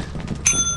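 A service bell at a counter in the video game Lethal Company gives one bright metallic ding that rings on briefly, struck after a moment of soft background noise.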